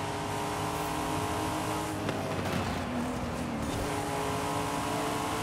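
A UTV engine in a Forza Horizon 5 race roars continuously at steady high revs, loud and close, with a brief shift or bump midway and no talk over it.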